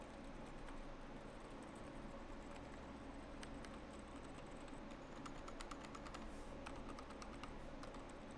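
Quiet keystrokes on a tuned GMMK Pro mechanical keyboard, the modifier keys pressed in a steady run of soft, muted clicks, close up and alone over a faint background hiss.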